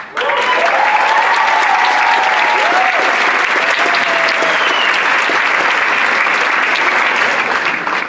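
A large audience at the Arab Xpressions 2018 event bursts into loud, sustained applause, a thick continuous roar of clapping with faint cheers or whoops riding over it, lasting the whole stretch.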